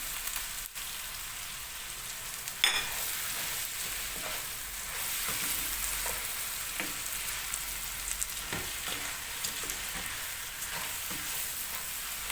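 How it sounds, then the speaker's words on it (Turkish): Vermicelli pasta toasting in butter in a pot, a continuous gentle sizzle like light rain with occasional stirring clicks and scrapes, close and moderately quiet. "Biraz da tereyağıyla kavuracağım."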